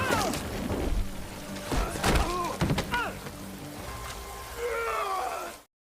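Steady rain hisses throughout while strained grunts and groans of a one-on-one fight on a dock rise over it, close by.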